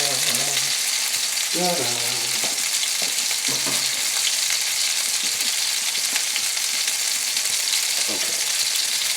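Tuna steaks searing in a hot pan over a hot fire, a loud, constant hiss of sizzling throughout with a few brief interjections of a voice.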